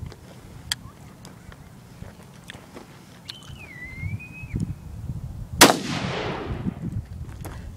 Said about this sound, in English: Gonna shoot the Raggedy Andy doll.